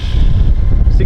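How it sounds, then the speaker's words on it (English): Strong gusting wind buffets a Moukey DSLR external microphone outdoors, producing a loud, continuous low rumble that swells and dips for about a second. "Pretty blowy."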